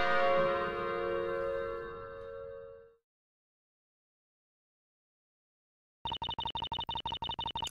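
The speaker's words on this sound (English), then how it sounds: "I just really want to ring that bell." A bell rings once in Professor Layton vs. Phoenix Wright: Ace Attorney, giving a loud, rich, tonal strike that hangs and fades over about three seconds. Silence follows, then a rapid, rhythmic electronic chiming pattern begins.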